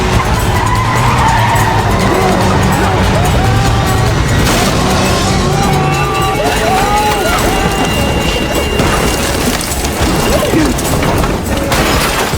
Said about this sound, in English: She quickly stomped on the gas.